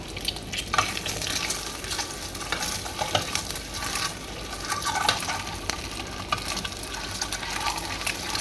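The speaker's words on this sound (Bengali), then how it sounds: "আমার হয়ে গেছে ডিম ভাজা উঠিয়ে নেব" Eggs frying in a pan sizzle steadily up close, with scraping stirring sounds and small crackles running through.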